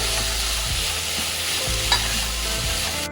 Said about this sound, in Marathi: हिरवी मिरची आणि मटा सगळं घालून हे छानपैकी परतून घ्यायचं